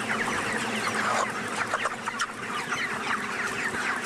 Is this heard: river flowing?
no